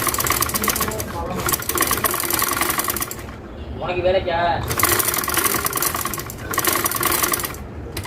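A sewing machine stitches the neckline of a ready-made garment with an embroidery-style design, running in several loud mechanical bursts. A person speaks briefly in the pause between runs.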